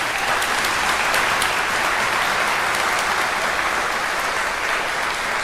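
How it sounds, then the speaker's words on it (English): A crowd at a high school graduation ceremony gives the graduating students a sustained round of applause, a steady, loud wash of clapping that holds evenly throughout. "Please give these students a round of applause."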